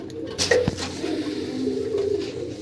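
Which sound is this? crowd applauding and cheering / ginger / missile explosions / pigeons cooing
pigeons cooing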